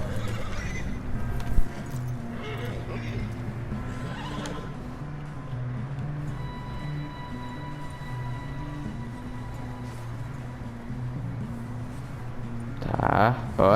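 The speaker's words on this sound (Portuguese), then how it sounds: "Esse aqui é o meu cavalo." A horse in the video game Red Dead Redemption 2 snorts and whinnies over a steady clip-clop of hooves, a near, continuous rhythm under faint game sounds, ending with a brief louder burst.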